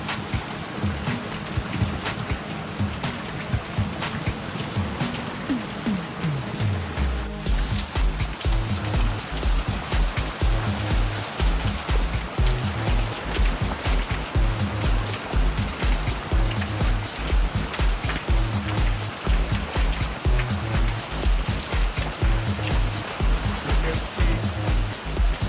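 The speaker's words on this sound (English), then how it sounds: "In Dehradun, heavy rain is going on." Heavy rain pours down outdoors in Dehradun, a loud, continuous rushing wash of water that sounds close, with dense splashing and a low rumble underneath throughout.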